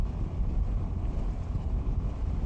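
Strong wind buffeting the microphone while riding a Burgman Street 125 scooter on a provincial road, a loud, steady low roar that fills the whole moment with no talking.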